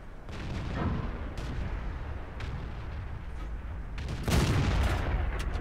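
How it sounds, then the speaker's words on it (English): A tank cannon firing in World of Tanks, a tier 8 Chinese tank battle: low rumbling booms and engine noise, with a heavier blast near the end, moderately loud against a constant battlefield drone. "And that shot misses to the left"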